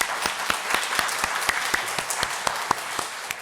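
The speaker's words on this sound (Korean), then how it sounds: "우리 하나님께 영광의 박수 올려드리겠습니다." A church congregation claps together in a steady rhythmic beat, the strokes landing evenly about twice per second over a softer wash of scattered clapping.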